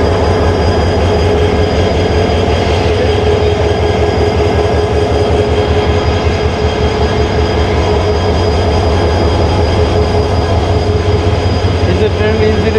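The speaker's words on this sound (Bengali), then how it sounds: "এই যে ট্রেন ইঞ্জিনের শান্টিংয়ের কাজ চলতেছে।" A shunting train engine works at Kamalapur railway station in Dhaka near the Mohanganj Express. A loud, unbroken mechanical rumble with a faint whine runs throughout, and muffled voices may sit beneath it.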